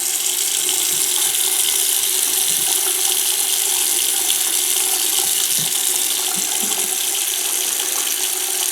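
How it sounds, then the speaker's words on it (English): Hot water runs steadily from a tap at low pressure after a sudden household-wide loss of hot water pressure, a continuous close hiss and splash with no talk. "This is our hot water pressure."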